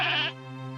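A goat kid with a freshly broken leg lets out one short, loud, close bleat that breaks off abruptly.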